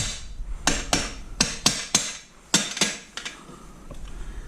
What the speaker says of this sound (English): I'm gonna use this rubber mallet, and we're just gonna gently.